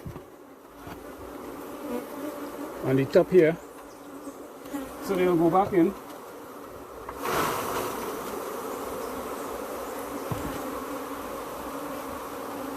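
Honey bees buzz steadily around brood frames as a beekeeper works the hive, a dense insect hum running the whole time with brief louder swells, while a person speaks a few words over it.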